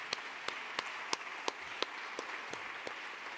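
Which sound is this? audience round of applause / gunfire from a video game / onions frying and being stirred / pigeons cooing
audience round of applause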